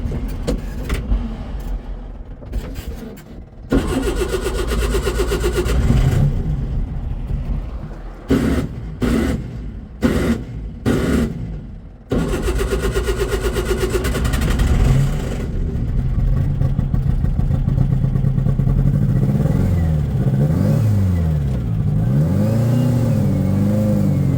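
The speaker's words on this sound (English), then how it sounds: "Seemed like I bogged it down while I was boosting." A VW Beetle with a turbocharged 1916 engine revs hard in repeated bursts, with abrupt dropouts and wavering pitch as it bogs under boost, loud and close throughout.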